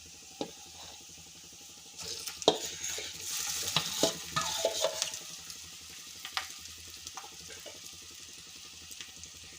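A spoon stirs mashed potatoes into hot oil in a pan for bread patties: a soft sizzle runs throughout, with scraping and clinking stir strokes growing busier in the middle, quiet and close, no voices.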